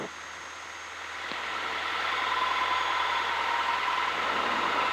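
A Piper Tomahawk PA38 aircraft engine idles steadily while warming up at full rich mixture, a constant droning hum heard from the cockpit, growing slightly louder then holding even.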